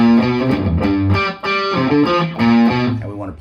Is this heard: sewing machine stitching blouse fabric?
no